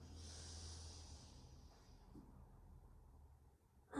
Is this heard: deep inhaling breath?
yes